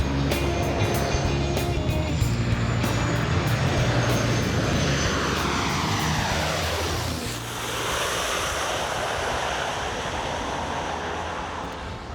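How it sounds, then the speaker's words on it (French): A fixed-wing airplane landing at Gustavia airport on Saint-Barthélemy, a very short runway ringed by mountains, roars loud and steady for about seven seconds, then its engine note sweeps down and fades into ocean surf and wind. "Atterrir à Gustavia est compliqué pour les pilotes."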